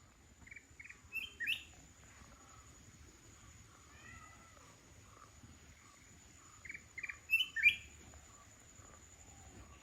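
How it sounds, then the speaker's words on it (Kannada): A bird calling outdoors at night, two bursts of short rapid chirping calls a few seconds apart, faint and somewhat distant over a soft background of insect trilling. "ಈಗ ಒಂದು ಹಕ್ಕಿ ಕೂಗುದು ನೋಡಿದ್ರಲ್ಲ"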